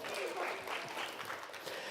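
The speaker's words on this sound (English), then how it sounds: "give a round of applause" An audience at a live show applauds in a soft, steady patter of clapping, with a voice talking over it.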